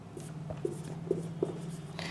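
A teacher writes during a biology lesson on blood, with a few soft scratchy strokes and light taps against a faint steady hum, no talking.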